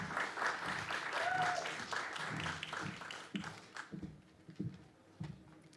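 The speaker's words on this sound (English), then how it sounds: "let's have a round of applause for Lydia." Audience applause and scattered cheers at a live comedy roast in a Bucharest pub, loud and dense at first, then thinning into sparse claps and a few voices near the end.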